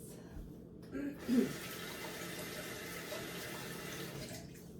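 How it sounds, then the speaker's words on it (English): Running water flows steadily from a tap while hands are rinsed at a sink, a constant close wash with a brief louder splash near the start. "let me rinse my hands."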